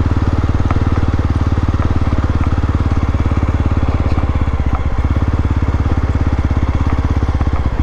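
A Jawa 42 motorcycle engine idles close by with a steady, rapid low thump and faint clatter, running continuously outdoors with no talk.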